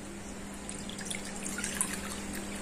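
Water poured into a steel cooking pot for chicken-leg soup, a steady, moderately faint trickling and splashing stream with a constant hum beneath it.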